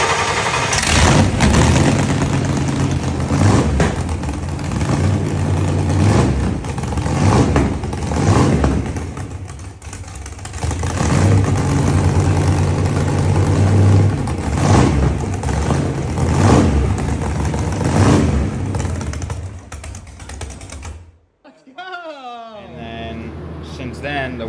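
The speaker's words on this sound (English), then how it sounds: "we got the car fired up" The NITROU car's engine runs at an idle with a low, steady rumble that swells in a few revs, then cuts off near the end. A person talks over it throughout.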